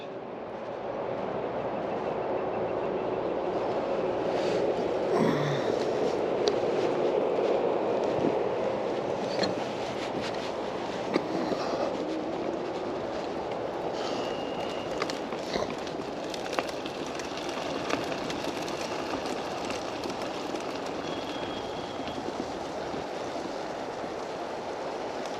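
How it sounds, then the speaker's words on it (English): Train passing near a creek campsite, a long continuous rumbling roar with a faint squeal, steady and moderately loud for the whole stretch, no talk over it. "I think I hear a train coming."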